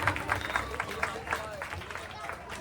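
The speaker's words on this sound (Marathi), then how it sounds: "जोरदार टाळ्या" A crowd claps rhythmically at a 2024 Govinda pathak dahi handi event in Ishwar Nagar, Digha. The brisk, fairly close clapping comes in pulses under someone talking over a loudspeaker.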